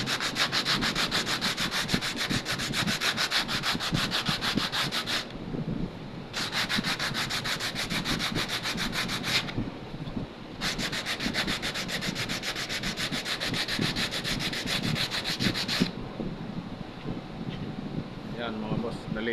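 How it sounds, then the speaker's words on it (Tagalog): Sandpaper is rubbed steadily back and forth along the edge of a Formica sheet in a long, rhythmic, close-up scraping that stops briefly twice and then resumes. "Lihain natin."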